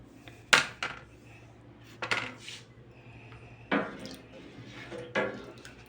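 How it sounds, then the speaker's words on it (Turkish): A spoon stirs rennet into 10 kilos of milk in a pot for homemade cheese, with a steady series of metallic clinks and scrapes against the pot over a low background hum. "Ve karıştırıyorum."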